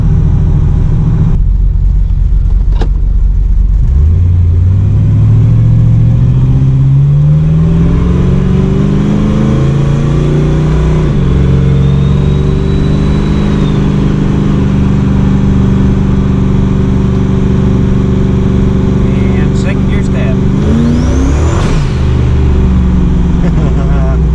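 Ford vehicle fitted with a swapped Ford 8.8 limited-slip rear differential on a test drive, its engine rising through revs in long climbing sweeps, steady and fairly loud throughout with road rumble beneath.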